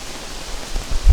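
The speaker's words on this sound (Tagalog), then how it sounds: "Magdamag na talaga siyang umuulan." Heavy rain pounds a tent during an overnight storm, a dense continuous hiss that stays loud throughout, with low thumping gusts building at the end.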